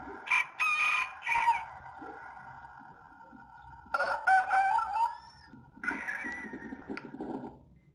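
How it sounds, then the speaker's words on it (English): A rooster crows three times in a row in Portugal's Douro Valley, each long strained call separated by a short pause, close by with faint background noise. "listening to that rooster crow over and over"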